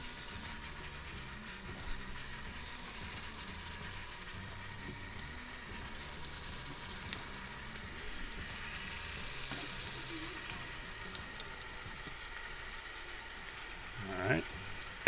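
Beef ribs browning in avocado oil inside an Instant Pot give a soft, continuous sizzle that runs for about fifteen seconds, with a few faint knocks and a brief scrape near the end.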